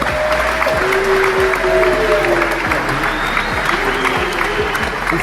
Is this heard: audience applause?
yes